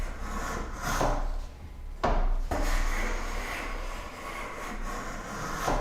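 A hand plane draws long, scraping strokes along the edge of a wooden workbench, peeling off shavings; each pass is a close, rough rasp, with a sharp knock as a stroke begins.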